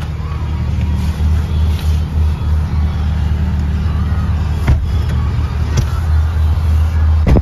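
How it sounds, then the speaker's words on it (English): A 2015 Subaru WRX with a Cobb access port on a test drive, heard from inside the cabin as a steady low engine drone and road rumble with a few light knocks. "Now let's take you on a short test drive."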